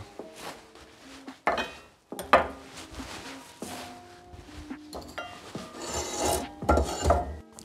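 A metal frying pan is pulled from a wood-fired oven, giving scraping, rasping slides and sharp clanks of metal against the oven floor in several close, irregular bursts, with no talking.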